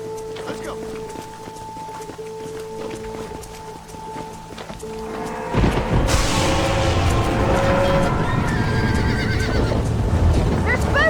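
Spooked horses whinny and hooves thunder as a herd stampedes in the video game Red Dead Redemption; the drumming gallop surges in loudly after a calmer stretch of music and ambience.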